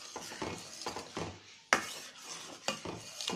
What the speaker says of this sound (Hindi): अब हम इसमें इलायची पाउडर ऐड कर देंगे और इसे भी अच्छी तरह से मिक्स कर लेंगे